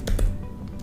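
Quick keystrokes on a computer keyboard while entering a Python quantile command, a few close, crisp taps in a short burst with no talking.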